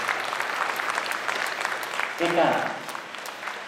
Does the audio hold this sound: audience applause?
yes